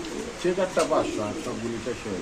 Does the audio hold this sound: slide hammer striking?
no